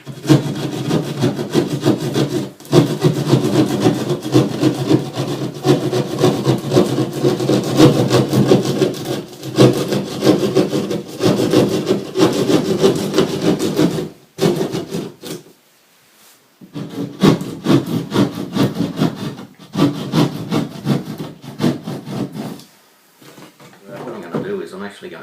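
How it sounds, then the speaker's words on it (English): A pointed hand saw cuts a patch out of a plasterboard wall with timber behind it, making loud, close, rapid rasping strokes that run for long stretches with brief pauses. "saw's got a sharp point so you can push it through to start with. Yes, I have got timber right behind. And just cut out this patch."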